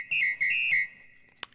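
A whistle sample on a hardware finger drumming machine sounds three sustained, steady tones in quick succession, followed by a brief sharp click near the end.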